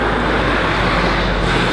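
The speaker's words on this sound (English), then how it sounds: "a loud truck always drives by." A loud truck rumbles past on a Copenhagen street, a dense continuous low roar of traffic filling the short moment, close and steady.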